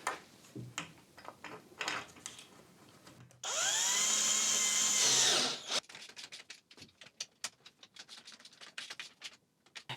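A power drill spins up and drives a bolt with a washer into a garden trellis frame for about two seconds of steady whirring, surrounded by scattered close clicks and handling taps.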